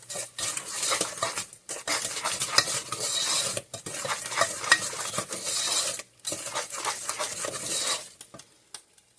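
A spoon stirs a Christmas side dish in a pan with close, continuous scraping and clattering against the metal and a light sizzle, broken by brief pauses and then fading out at the end.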